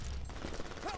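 A mine is planted in the video game Brink, giving a short mechanical click-and-ratchet clatter, quiet and over almost at once.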